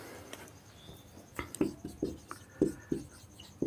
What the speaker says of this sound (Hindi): चलिए और सेंटेंस लिखते हैं